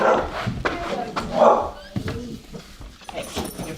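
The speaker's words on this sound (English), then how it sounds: "She's gonna bark until you pet her." A rescued pit bull barks and whimpers close by in short, excited yips, with people talking over and between the barks.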